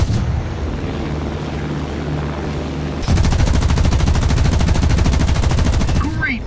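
Rapid, continuous aircraft machine gun fire in War Thunder bursts in after a steady engine drone, loud and sustained with a dense rattling rhythm.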